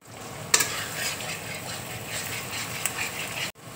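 Steady sizzling and bubbling of bottle gourd paste frying in ghee in a pan, with a sharp clack of a utensil early on and a short scrape later.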